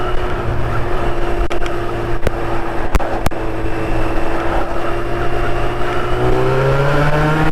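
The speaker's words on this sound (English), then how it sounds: "Ride a motorbike, that makes you smile." A motorbike engine hums and revs, its pitch rising toward the end, with a few sharp clicks and steady road noise underneath.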